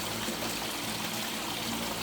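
Water from a dehumidifier bucket pours steadily into a garden tank, a continuous broad splashing trickle close by with no speech.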